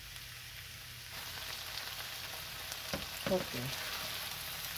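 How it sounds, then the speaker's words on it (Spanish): Chopped tomato stewing in a pan over raised heat, giving a steady soft sizzle and light bubbling throughout, with a few stirring clatters near the end and a brief spoken word over it. "a guisar el tomate, voy a ponerlo en una temperatura un poquito más alta"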